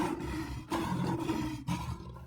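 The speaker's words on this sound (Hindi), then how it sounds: "आवाज से तो लगता है कि कोई शेर मेरी ही ओर बढ़ता चला आ रहा है।" A lion roars in a series of deep, rough bursts, loud and close, each swell rising with a brief pause between, with no other sound or voices.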